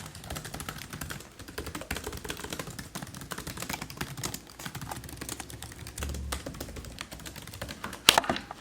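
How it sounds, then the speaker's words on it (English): Fingers slam hard and fast on a computer keyboard, a dense, continuous clatter of sharp keystrokes close to the microphone, ending with a few heavier thumps near the end. "People have been making fun of me for the way that I slam on the keyboard."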